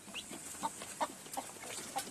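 Free-range native chickens (nattu kozhi) eating scattered feed cluck softly and steadily, with small pecking sounds scattered throughout, at moderate distance with no talking.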